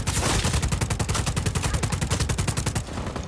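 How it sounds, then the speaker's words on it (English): Rapid automatic gunfire in the action game Just Cause 4, a dense continuous burst of shots rattling steadily for several seconds at close range, loud and unbroken before trailing off near the end. "Where is that shooting coming from?"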